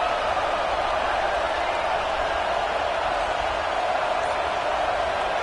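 A college football stadium crowd in a video game, LSU at Nebraska, making a constant, loud, wall-like roar with the red-zone defense on the field and no clear voices.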